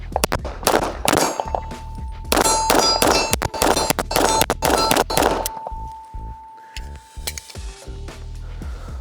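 A Kimber 2K11 pistol fires in rapid bursts of sharp cracks, each followed by bright ringing clangs from steel targets, ten or more shots in quick succession before a quieter stretch of fainter pings and clatter.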